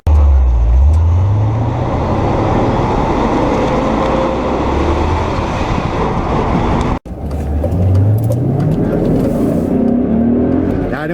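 A supercharged BMW E39 M5 accelerates hard at full throttle, its loud engine note climbing steadily in pitch, breaking off briefly for a gear change, then rising again with a rising supercharger whine.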